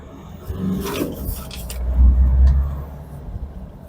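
A JAC T8 Pro Comfort diesel pickup truck with a manual gearbox accelerates in second gear, its low engine rumble swelling to a peak midway and then easing, heard from inside the cab with no talk.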